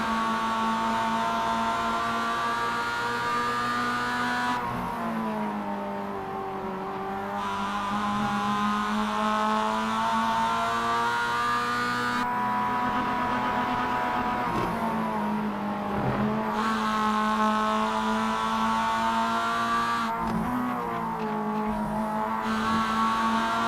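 Roadster race cars on a circuit drone loudly and continuously, engines holding steady pitches with periodic dips and shifts as the drivers change gear, running tightly together near the front of the pack.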